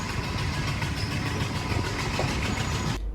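A train rolls out from Thambuttegama station with a loud, close rumble and a regular clickety-clack of wheels over rail joints, steady until it cuts off at the end, without speech.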